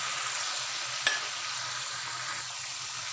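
Spiced cauliflower, potato and capsicum sabzi stirred in a pan over a constant close hiss of frying, broken by a single clear scrape or knock of the spoon.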